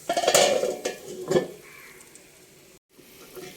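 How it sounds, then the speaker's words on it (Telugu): A pan of stuffed eggplant being covered with its lid: a couple of close metallic clanks and scrapes of the lid and pan, then a low, quieter background hiss. "మూత పెట్టుకుందాం"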